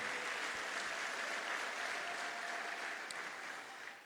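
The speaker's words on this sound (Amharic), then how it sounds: "እስቲ ሞቅ ደመቅ ያለ ጭብጨባ እናመጣለን።" A church congregation applauds its pastor in Addis Ababa, a sustained wash of clapping at moderate distance that holds steady, then tapers slightly toward the end.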